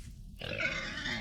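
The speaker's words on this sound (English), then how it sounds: "I angered the pig." An angry pig in the video game Vintage Story lets out a short, rough grunt that swells in suddenly after a brief quiet moment and carries on over low game ambience, with nobody talking.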